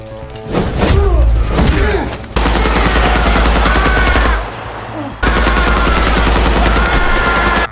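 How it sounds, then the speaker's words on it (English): Rapid gunfire bursts in a movie fight scene where two gunmen are killed, loud and dense with sharp repeated shots and thuds layered over a dramatic score, with brief pauses between bursts. "Although they had guns, Mike managed to kill both of them"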